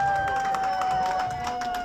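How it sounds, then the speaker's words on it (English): A comedy club audience cheers and claps in a brief, fairly loud burst of whoops and scattered applause, with a steady tone sounding faintly beneath. "who smokes weed by round of applause?"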